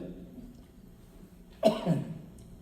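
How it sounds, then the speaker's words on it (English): One short, sharp cough breaks a quiet stretch, close and fairly loud, trailing off into a brief throaty rasp. "she's making me cough."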